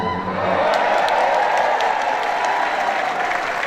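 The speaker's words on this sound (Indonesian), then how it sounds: "Tapi sebenarnya jangan tepuk tangan." Audience applause at a gathering before a Christian congregation, a dense, loud wash of clapping sustained for several seconds with no voices over it.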